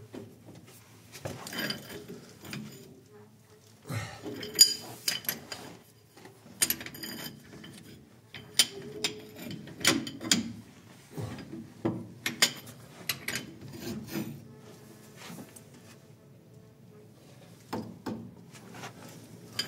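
A socket wrench tightens a part on an old Paykan car with a Toyota-type differential during a seal replacement: irregular ratcheting clicks and metallic scrapes in uneven bursts, close by in a quiet workshop, with no talking.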